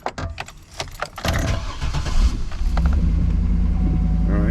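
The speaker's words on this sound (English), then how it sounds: "So let's go ahead and start the car up" Keys jangle and a car engine cranks and catches, then settles into a steady low idle rumble, all close by.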